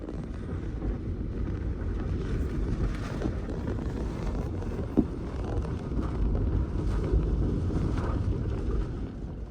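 Strong wind gusts buffet the microphone in a continuous low roar, fairly faint overall, with no voices, during a sudden windstorm with heavy rain in Ras Al Khair.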